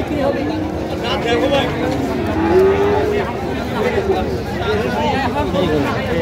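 Thin, bony dairy cows and cattle at a rural cattle market in Ambari moo faintly amid constant crowd chatter and people talking close by.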